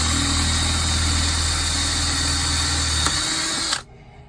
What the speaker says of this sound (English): in the very center of your bracket where you put your marks, you just want to drill those through